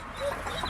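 Chickens cluck softly, huddled together in hot weather alongside week-old ducklings, in a brief, quiet burst under faint background noise.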